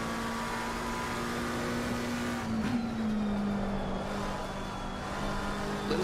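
Race car engine in a racing video game at Brands Hatch, a steady close drone that slowly shifts pitch as it accelerates through a corner, heard alone without talk.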